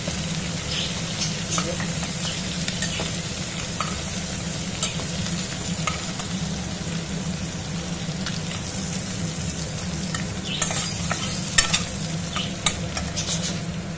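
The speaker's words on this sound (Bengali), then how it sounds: "এই ডাঁড়াগুলো আর একটু ভালো করে ভেজে নেবো" Tangra fish and crab claws frying in hot oil for a spicy crab curry: a steady, dense sizzle throughout, with scattered clicks and scrapes of stirring, close and continuous with no talk.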